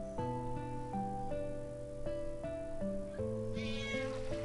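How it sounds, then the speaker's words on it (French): A cat meows in the video game Final Fantasy IX, a drawn-out, tonal meow that rises and falls in steps over a few seconds, set against a continuous game music background with no talking. "On va voir le chat."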